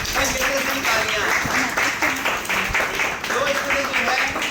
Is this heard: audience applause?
yes